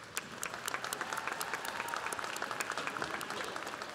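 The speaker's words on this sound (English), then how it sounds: "Would the parents of the graduates please stand and receive our applause?" Audience applause at a December 2015 College of Engineering commencement, honoring the graduates' parents as they stand; steady, dense clapping from a large crowd throughout, with no talking.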